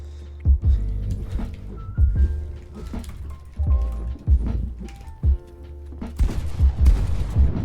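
Gunfire from Fortnite ranked box fights: repeated loud, sharp shots in irregular bursts, with some quick pairs and a denser cluster of blasts and clatter near the end, mixed with game effect tones.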